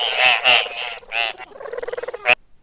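Frog croaks in a few loud, rasping bursts followed by a quick rattling trill and one final sharp croak, close and alone.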